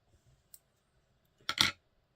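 Scissors snip away excess thread on a quilled tan UV buzzer fly. A faint click comes first, then one short, crisp cut at close range, with near silence around it.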